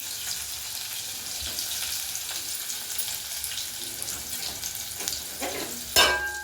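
Chopped onions frying with cumin seeds in a pan for a tomato and fenugreek curry, a steady close sizzle with occasional stirring scrapes and a brief louder clatter near the end.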